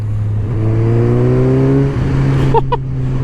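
A Suzuki GSX-S 750 motorcycle accelerates up through the revs, a loud, close, rising engine drone that climbs steadily before a brief dip as it shifts gear.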